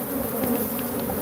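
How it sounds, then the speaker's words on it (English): A swarm of killer bees buzzing all around, a dense, steady drone close by with no pauses for its whole short length. "So these bees are everywhere."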